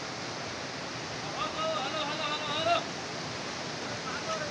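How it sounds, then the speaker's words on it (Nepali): Steady rushing water of the Tap river where it crosses the Chokhane–Puchhar road with no bridge, a broad even wash with a voice rising faintly midway. "चोखाने पुच्छारको सडकमा पर्ने ताप खोला हो।"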